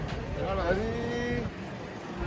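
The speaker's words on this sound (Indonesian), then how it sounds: "Detik penurunan sapi raksasa di pasar Penambarawa." A giant cow is unloaded from a truck at the busy Penambarawa market, letting out a drawn-out moo over steady crowd chatter and nearby voices.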